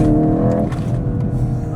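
A 2-litre turbocharged rally car engine accelerating hard, close and loud, a steady harmonic roar that climbs in pitch and then breaks into a rougher, gravelly rumble, with no talk over it.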